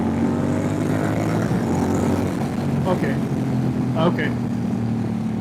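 Honda Rebel 1100 motorcycle pulling hard in third gear in sport mode, a steady engine drone that holds loud and close throughout as it accelerates, with wind noise and a brief spoken word near the end.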